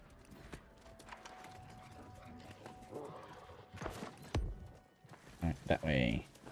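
A horse gallops in the New World game, hooves clip-clopping with a neigh, the footfalls growing louder toward the end, under light game ambience and occasional chatter.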